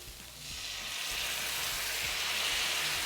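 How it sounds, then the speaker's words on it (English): Port wine poured into a hot pan to deglaze it while making French pork liver pâté, giving a loud, steady sizzle that swells after the first half-second and holds close and continuous. "And directly you put your port wine,"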